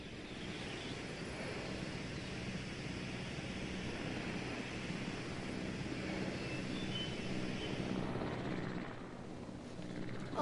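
A helicopter in a Jurassic video game drones as a steady, broad, rushing engine roar at moderate level that fades slightly near the end, with no voices.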